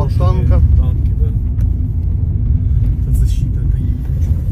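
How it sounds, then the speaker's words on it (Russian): Military vehicles and tanks roll along a road out of Kherson, a heavy continuous engine rumble close by, with a voice speaking briefly over it. "Вот машины едут, смотри."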